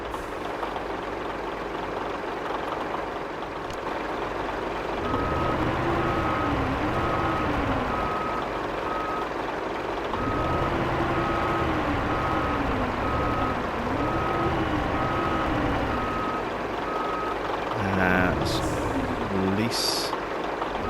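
Reversing beeps sound from a truck in the off-road driving game Spintires: Mudrunner, a steady evenly spaced beep over a loud idling heavy engine, with the engine revving and a crane-like whine rising and falling.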